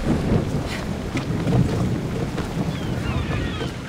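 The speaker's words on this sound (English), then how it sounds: "Weather's gone crazy! We shouldn't sail" Stormy weather at sea in the video game Assassin's Creed Odyssey, with steady loud wind, rushing water and low rumbling around a sailing ship, continuous throughout with no talk.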